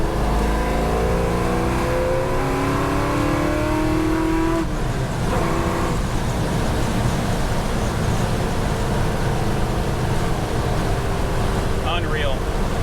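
A supercharged 1964 Pontiac GTO accelerates hard in fourth gear, its engine note climbing steadily in a loud, continuous drone heard from inside the car, with road and wind noise filling the background.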